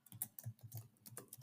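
Quiet keystrokes on a computer keyboard while typing Python code, a short irregular run of soft, close clicks with no talk.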